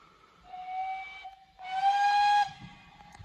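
A steam train whistle at a railway station sounds in two long, loud, sustained blasts, the second brighter and fuller, with a faint hiss around them and no speech.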